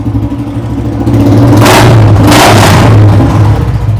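A used 2016 single-owner motorcycle with a full Punjab silencer revs up loudly and close, its engine roar swelling in two surges over a steady rumbling idle.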